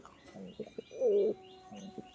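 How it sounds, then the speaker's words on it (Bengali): Soft, low pigeon cooing, a few short coos and one longer rolling coo in the middle, with faint chirps and background hiss. "এই হচ্ছে কবুতর শ্বেত মাদি"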